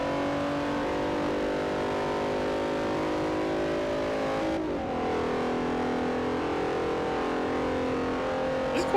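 Several race car engines in Forza Motorsport 4 drone steadily at high revs in a D-Class multi-class event, tones shifting as cars close in and pass, loud and continuous with no talk.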